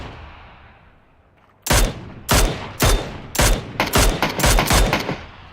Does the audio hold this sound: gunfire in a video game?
yes